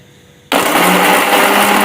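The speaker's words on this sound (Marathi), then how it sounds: "हे सगळं वाटण आता मी मिक्सरमध्ये बारीक करून घेते" A mixer grinder grinds roasted coconut and chickpea masala paste for a village-style mutton rassa. After a brief quiet moment it kicks in abruptly with a loud, steady, close motor whir that holds evenly to the end.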